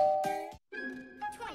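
A cartoon doorbell gives a two-note ding-dong chime, rings again after a short gap, and is heard amid lively background voices.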